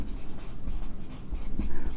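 Pen scratching steadily across paper during a maths lesson, a close, continuous dry scraping with small pauses between strokes.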